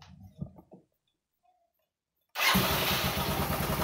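A motorcycle running on a double battery setup is cranked and starts, settling into a loud steady idle after some faint handling noises and a silent pause.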